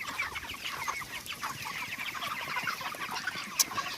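Broiler chickens on a farm floor littered with chopped straw cluck and murmur steadily in a dense, continuous flock chorus, with one sharper call standing out briefly near the end.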